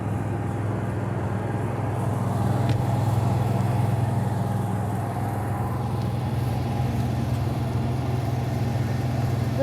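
A generator on a Thor Ace RV runs with a steady mid-pitched engine hum, constant and continuous throughout with no talk over it.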